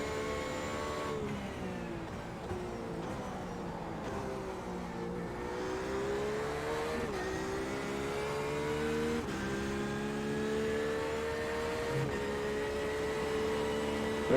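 An LMP prototype race car in the iRacing simulator roars steadily throughout, its engine tone rising and shifting as it runs past, with no talk over it.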